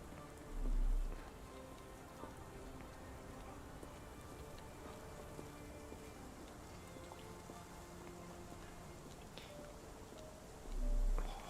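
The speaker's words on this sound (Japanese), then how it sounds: "相変わらず雨なんだな。" Rain in the video game Sherlock Holmes The Awakened, a steady soft hiss of falling rain with light ticking drops, quiet and continuous, with two brief low thuds near the start and end.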